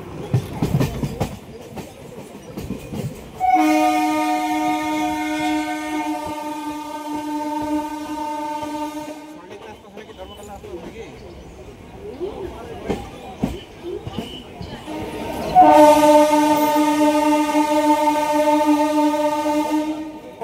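A MEMU passenger train arriving at Sealdah station sounds two long, loud horn blasts over rumbling and clattering wheels, with voices and station noise between them.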